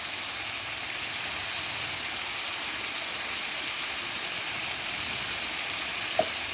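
Chicken fries in a pan with salt and turmeric, giving an even, soft, constant sizzle throughout, broken only by a single small tap near the end.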